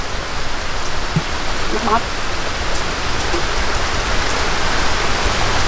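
Steady rain pours down with a dense, even hiss throughout, close and fairly loud, while a person briefly speaks over it.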